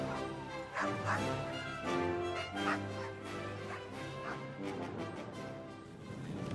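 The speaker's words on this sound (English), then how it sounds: "With them were nearly 70 Canadian sled dogs, uneasy at sea and in constant need of attention." Nearly 70 Canadian sled dogs aboard the expedition ship Endurance yip, whimper and bark together in a steady restless chorus that carries on throughout.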